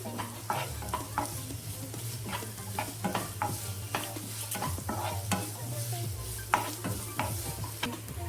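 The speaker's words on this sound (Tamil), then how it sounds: "நல்லா வதங்கட்டும்." Chopped onions sauté in a pan for mutton kola urundai, a steady sizzle with repeated scraping stirs of a spoon or spatula, close and continuous with no talking.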